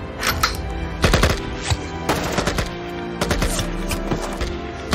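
Gunfire in an action film scene as a running man shoots at mercenaries: sharp, loud bursts of shots in several clusters over a dense, busy background, with no talk.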